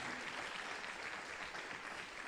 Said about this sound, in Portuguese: Pode aplaudir Jesus aí